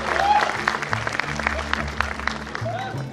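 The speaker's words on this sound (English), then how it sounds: "Let's clap for it." Audience applause at a live in-conversation session with actor Manoj Bajpayee, a steady burst of clapping from a crowd lasting the whole moment, with some voices audible over it.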